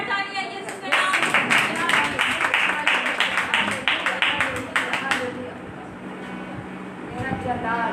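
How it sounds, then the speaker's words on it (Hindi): A church congregation at a Pentecostal Sunday service claps together in a rapid, steady rhythm for about four seconds, loud and close, then fades into room noise with voices nearby. "जोरदार तालियां यीशु के नाम में।"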